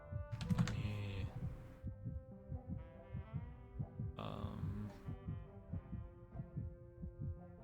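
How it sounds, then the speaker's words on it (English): Video game heartbeat sound effect: steady, regular low thumps pulsing throughout, moderately loud, with brief bursts of other game sounds layered on top. "If you can hear the heartbeat on stream"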